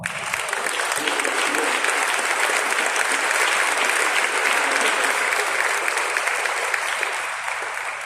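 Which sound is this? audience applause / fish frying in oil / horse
audience applause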